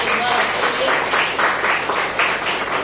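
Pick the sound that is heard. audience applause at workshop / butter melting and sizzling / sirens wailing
audience applause at workshop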